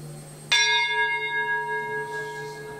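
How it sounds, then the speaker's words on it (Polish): Gong set spinning at an ambient music festival instrument demonstration: one sudden bright strike that keeps ringing with shimmering, slowly wavering overtones, close and clear, with no talking. "siła odśrodkowa przez nakręcenie tego gongu powoduje, że wyrzuca ten dźwięk"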